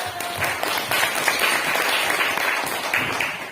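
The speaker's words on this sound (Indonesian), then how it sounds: "Tepuk tangan." Kindergarten class clapping together in a classroom, a lively, continuous burst of many small hands with faint voices mixed in underneath.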